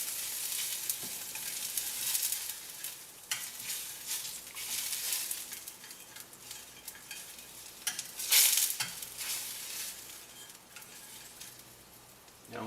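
Milk hitting a hot pan of browning ingredients for a homemade pizza sauce hisses in a steady, moderately loud sizzle, with occasional stirring scrapes and one sharper burst near the end.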